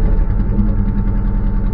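An engine running with a rough, pulsing low rumble and slight vibration, struggling as if about to stall, heard loud and close over a brief stretch with no talking.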